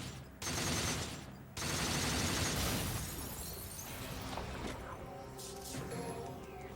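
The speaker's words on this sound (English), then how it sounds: "I want to hit these guys into each other so they both get hit by their own explosions" Dense, loud video game combat from Devil May Cry 4, with rapid gunfire, bursting explosions and crashing impacts layered in a continuous chaotic barrage.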